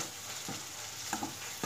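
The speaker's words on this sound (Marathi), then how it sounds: "तर याला तेल सुटेपर्यंत छान आपल्याला हे चांगलं हलवून घ्यायचं आहे" A spoon stirs and scrapes masala frying in hot oil in a pan for a Maharashtrian brinjal rassa curry, giving a steady close sizzle broken by a few louder scraping strokes.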